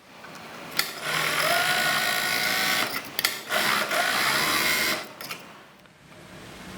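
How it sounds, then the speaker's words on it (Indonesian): Overlock sewing machine serging the shoulder seam of a child's half-circle gamis dress, a loud continuous motor whir running in bursts with brief pauses and a stop near the end. "Sekarang kita obras terlebih dahulu bagian jahitan ini tadi ya."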